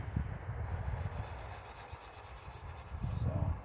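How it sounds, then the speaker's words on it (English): Sandpaper rubbing by hand over a 1957 Chevy Bel Air 283 V8 block at the head deck, clearing old gasket residue with 600 grit: steady close scratchy strokes with no talk. "600 grit sandpaper is not going to destroy this block or the head unless I'm sanding it for like 2 or 3 days"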